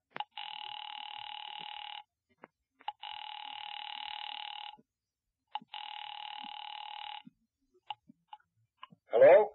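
An old-style telephone bell ringing in a radio drama, three long buzzing rings separated by short silences, with clicks between them and a brief voice at the very end.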